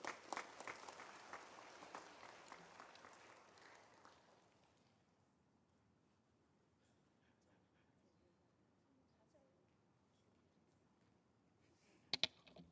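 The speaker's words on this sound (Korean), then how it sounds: "축하합니다. 박수해 주세요." A church congregation claps together during a Sunday worship service, loud at first and then fading away after a few seconds, followed by quiet and a brief sharp knock near the end.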